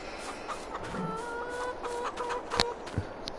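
Chickens in the farming game Farming Simulator 22 cluck in soft, repeated calls from a small flock, with a few sharper clucks over a steady farmyard background.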